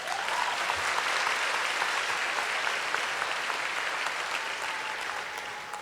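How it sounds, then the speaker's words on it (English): Audience of parents applauding at a Southland College Prep graduation ceremony, a sustained dense wash of clapping from a large crowd that tapers slightly toward the end. "Parents, let's give that a round of applause"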